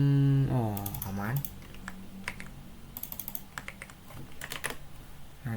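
Typing on a computer keyboard while setting up an EIGRP router configuration, a run of quick, uneven clicks and taps close by after a brief opening tone, with faint voice hints underneath.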